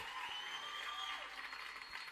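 A canned applause effect of a whole audience clapping and cheering plays as a continuous, fairly faint wash of claps, with a few brief whistle-like tones riding over it.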